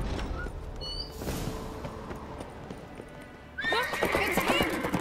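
Horses in the Witcher 3 game neigh sharply and then clatter off in quick hoofbeats, with a brief voice underneath and a second whinny and rising gallop at the end.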